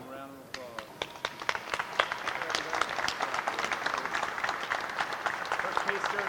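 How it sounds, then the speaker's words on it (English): A round of applause breaks out at a county executive's agreement signing, many hands clapping in a busy, steady patter that builds slightly and holds; a voice speaks briefly at the very start. "One round of applause."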